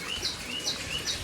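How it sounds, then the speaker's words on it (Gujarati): Sparrows chirping in a village at early morning, with three or four short bright chirps spaced at a steady rhythm over a faint, continuous background hum. "ચકલા બોલે ચકલા."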